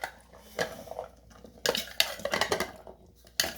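Chickpeas and white lobia beans being mixed in a bowl with a spoon, giving close, irregular clinks and scrapes of metal against the dish along with the soft rustle of the beans.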